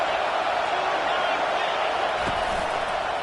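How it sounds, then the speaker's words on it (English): Stadium crowd noise in EA College Football 25 during a Michigan at Oklahoma game, a dense continuous roar of many voices that holds steady throughout, with a faint thump near the end. "This crowd bringing the energy and noise early."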